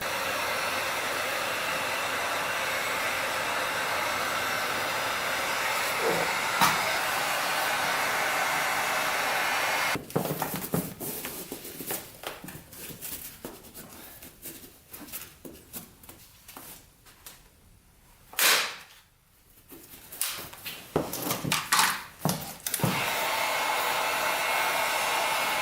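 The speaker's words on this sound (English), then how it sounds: "let's just get the heat gun out and just get this fixed" A heat gun blows on a wrinkled seat of a Honda TRX450R quad, a loud steady airy roar that cuts out partway, giving way to rustling and handling noises before the blowing resumes.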